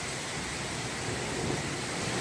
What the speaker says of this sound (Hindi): मूसलाधार बारिश हो रही है